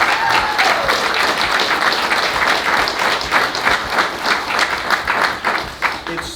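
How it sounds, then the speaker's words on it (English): Applause from the audience at a chefs' association meeting in a restaurant, sustained dense clapping that carries evenly throughout the room, with scattered voices and cheers mixed in. "Can we give a little round of applause for everybody?"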